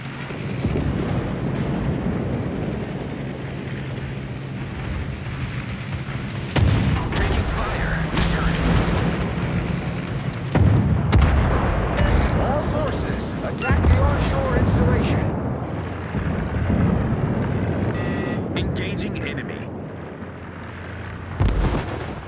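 Naval gunfire and explosions roar from a video-game warship battle, with heavy booming salvos and blasts rumbling loudly and almost continuously through the clip, while voices talk over the din.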